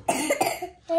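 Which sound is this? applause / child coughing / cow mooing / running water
child coughing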